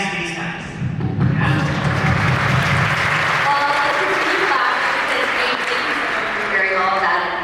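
Audience applause fills a Disney live entertainment panel about the company's castles at a D23 fan event, a broad steady wash of clapping from a large crowd that keeps going for several seconds with some talk mixed in.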